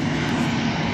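Airplane engine drone overhead, a steady loud broadband roar holding level throughout with no talk over it.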